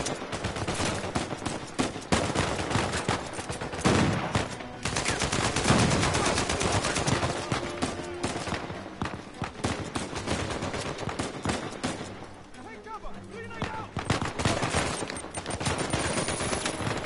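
Sustained rapid gunfire from a shootout in Uncharted 4, dense bursts of automatic shots crackling almost continuously and fairly loud, with a brief lull before the firing picks up again.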